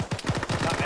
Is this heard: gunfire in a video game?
yes